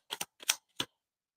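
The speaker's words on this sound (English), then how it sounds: "Y'all hear my bed squeaking?" Three short creaky squeaks in quick succession, the first a quick double, close by with silence between them.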